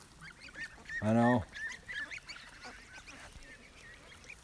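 Geese honk close by outdoors, one loud nasal honk standing out among fainter calls, over wind and background noise, with a brief spoken remark nearby.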